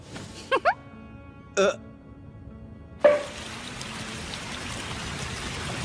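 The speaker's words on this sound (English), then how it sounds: "Never thought I'd do waterfall meditation from the comfort of my own home." A cartoon waterfall sound effect for indoor meditation starts abruptly and continues as a steady loud rushing hiss, after a few short voiced sounds from characters.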